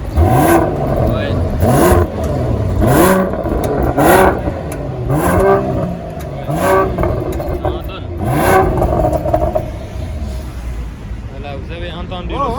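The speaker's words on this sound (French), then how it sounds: "Ça, ce sont les clapets fermés. Écoutez le son du moteur." A Mercedes-AMG GLE 53 engine with exhaust valves closed is revved repeatedly, about eight rising-and-falling rpm sweeps close by, with a whirring note easing off near the end.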